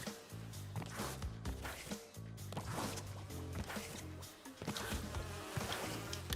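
Bees in a Crash video game buzz loudly over busy game music and effects, a dense, continuous swarming drone with intermittent thumps.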